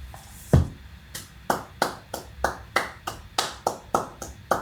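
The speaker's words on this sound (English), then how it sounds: "Can I give you a round of applause?" Single slow hand claps ring out one by one at an even pace, about a dozen crisp separate claps near and alone, with no crowd and no talk.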